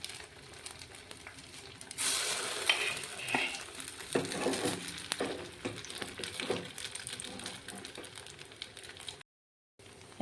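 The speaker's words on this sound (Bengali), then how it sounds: "এখন আমি লো ফ্লেমে রেখে হালকা হালকা করে ভেজে নেব।" Pieces fry in oil in a frying pan over a low flame, a soft sizzle that swells after the first seconds, with light utensil clinks and stirring, fairly quiet and cutting out briefly near the end.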